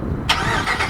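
A 2020 Ram 1500 Longhorn with a 5.7 liter Hemi V8 starts remotely, firing up abruptly from a low rumble into a steady idle, close by and without speech.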